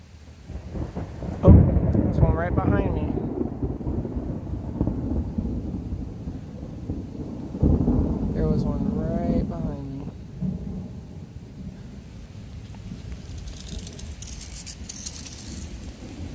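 A thunderstorm in Cincinnati brings loud rumbling thunder in two long rolling peaks over steady rain falling nearby, with wind and a voice briefly speaking underneath.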